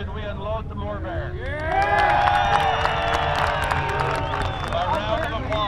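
Outdoor crowd at an off-road wrecker competition cheering and whooping to vote, many overlapping shouting voices swelling loudly with some clapping underneath.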